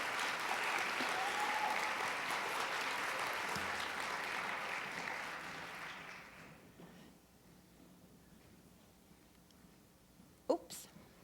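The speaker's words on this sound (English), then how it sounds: "Come on, stay up so that people can clap for you." Conference audience at a morning keynote applauding the team members, loud sustained clapping that fades out after about six seconds, followed by quiet room noise and a brief thump.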